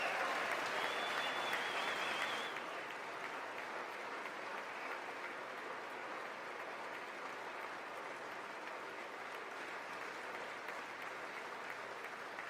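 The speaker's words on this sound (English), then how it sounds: "they really are just going to clap for everything" An audience applauds throughout a State of the Union speech, a dense, steady wash of clapping that is loudest in the first couple of seconds before settling into a sustained ovation, with no one speaking.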